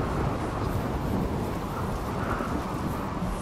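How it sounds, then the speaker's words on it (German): Thunderstorm in the video game RimWorld, a dense, continuous low rumble of thunder mixed with rain that holds steady and moderately loud throughout, with no voices. "Und der Donner ist überhaupt wieder nicht laut."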